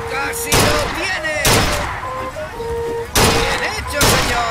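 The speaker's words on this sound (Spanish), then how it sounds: "¡Otro disparo en toda la diana!" Gunfire at a shooting gallery in BioShock Infinite: four loud, booming shots a second or so apart, with ringing tonal game sounds in between.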